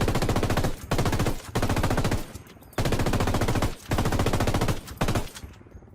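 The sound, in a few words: machine gun cover fire in a Royal Marines video game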